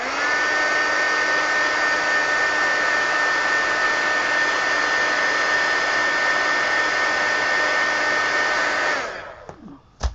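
A hair dryer runs at a steady, loud whine as it dries wet acrylic paint, holding constant for about nine seconds before switching off with a brief click.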